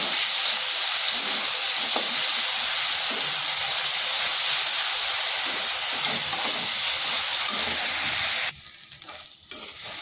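Potatoes frying in a pan give a loud, steady sizzle and hiss for most of the clip, then the sound breaks up into rougher crackling near the end. No one speaks.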